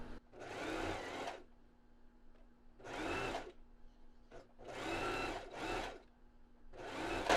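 Sewing machine stitching along the edge of panties fabric, with four bursts of fast, even whirring and stitching separated by short quiet pauses, close and clear without any voices.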